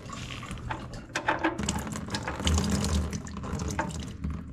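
Antifreeze pours out of an old engine that sat for years, a liquid splashing and trickling stream with irregular drips, close and moderate in level, no talking.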